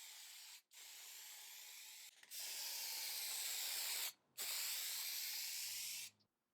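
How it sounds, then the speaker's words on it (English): Anti-rust spray paint hisses from an aerosol can in bursts during restoration of a 1950s bentwood armchair, three sustained sprays of a few seconds each separated by short pauses, close and steady. "a few coats of anti-rust spray paint"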